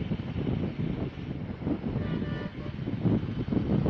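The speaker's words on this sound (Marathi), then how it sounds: "अरे पार लांबीस केला काय तरी हॉर्न मारतोय." A vehicle horn honks from a distance on a road in South Goa, a tonal toot sitting over steady traffic and road rumble with no talk.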